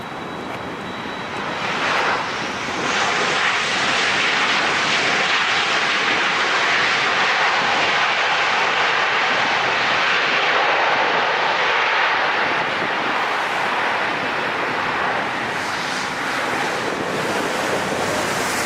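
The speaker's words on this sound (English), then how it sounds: "what we have is Delta coming from San Francisco, flight 2725, 737, 800, 52-minute flight" A Delta Boeing 737-800 jet passes at LAX with a loud, broad roar that swells within a couple of seconds and holds steady for a long stretch before easing slightly, heard close and alone.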